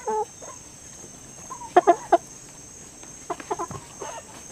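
Several chickens cluck in short bursts, a few sharp squawks standing out over quiet outdoor background in a durian orchard.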